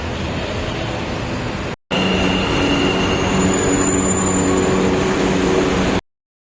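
A metro train runs loudly from inside the carriage, with a steady rumble, wheel squeal and high whine; after a brief cut near the start, the noise continues until it stops abruptly.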